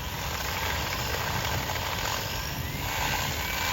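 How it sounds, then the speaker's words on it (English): A homemade jet engine starting up as a Dremel spins its compressor: a steady, loud, close whine and roar that holds constant throughout, with no voices. "First I turn on the starter, and then I spin up the Dremel, and then I put the fuel"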